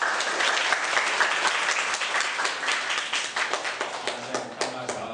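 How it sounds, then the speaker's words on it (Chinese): Audience applause at a Taiwanese public forum on ending the Fourth Nuclear Power Plant, a dense, steady burst of many hands clapping close and loud throughout, thinning slightly toward the end. "请大家热烈掌声一下"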